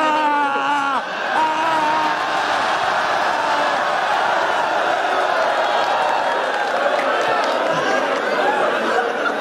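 Rap battle crowd roars with cheering and loud excited chatter, a dense sustained wall of voices and whoops filling the whole stretch, with individual shouts rising above it.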